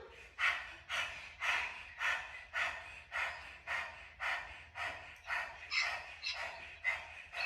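A group of people rhythmically imitates a hot dog's panting, with about a dozen quick, breathy huffs in a steady pulse during a yoga session, fairly close and with no talking.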